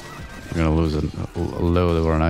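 A horse whinnies loudly twice in a medieval combat video game, long drawn-out neighs filling the short moment with a brief gap between them.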